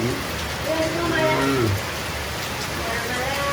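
Steady hiss of rain falling on surfaces, continuous and fairly loud, with a person speaking briefly over it.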